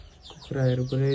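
Chickens forage nearby, giving a couple of short, close clucking calls that start quietly and then sound louder and clearer.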